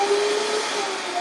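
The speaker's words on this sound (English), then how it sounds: "So I'm going to start the blending process here" A Vitamix blender whirs loudly and steadily at close range while blending vegan mozzarella, a dense motor roar with a faint high tone running through it for the whole short stretch.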